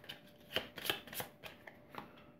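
Board game cards for Charterstone being shuffled by hand at a table, a close series of riffling, slapping bursts in an uneven rhythm, moderately quiet with no talking.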